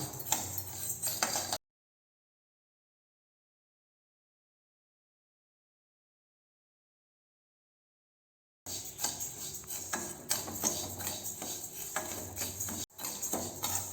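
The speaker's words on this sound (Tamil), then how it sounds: "பார்த்திங்கன்னா இந்த பச்சரிசியும் பாசிப்பருப்பும் நல்லா வறுபடணுங்க" Raw rice and moong dal dry roasting in a pan for Thiruvathirai kali: faint scraping and rustling of grains, broken by a long stretch of silence in the middle.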